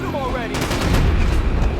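Rapid gunfire in Max Payne 3, a dense burst of overlapping shots rattling loud and close in a heated firefight, with game voices and effects mixed in.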